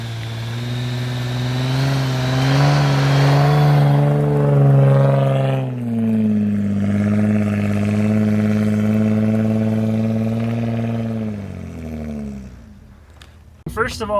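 A truck on aired-down 37-inch tires fitted with chains grinds through deep powder during a sub-zero winter storm, its engine droning loud and steady, dropping in pitch partway through before easing off near the end.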